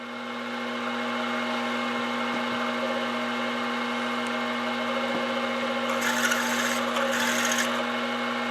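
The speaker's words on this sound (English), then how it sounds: "Now I'll just run the tapping drill through." A lathe hums steadily with a fixed tone while a tapping drill rasps and grinds through a metal chuck adapter workpiece, with a louder burst of cutting near the end.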